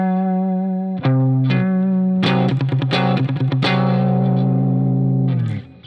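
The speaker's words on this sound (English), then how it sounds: "the only interval we haven't covered yet is between the perfect 4th and the perfect 5th. And it's called the tritone." Distorted electric guitar plays a tritone interval: a single sustained note, then the two-note interval struck repeatedly in quick strums before ringing out loud and steady with effects.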